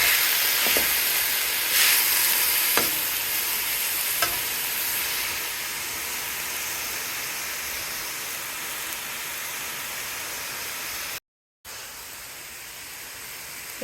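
Amaranth greens fry in a pan with a little asafoetida, giving a steady close sizzle and hiss that runs throughout, broken by a few soft scraping stirs near the start and one brief dropout.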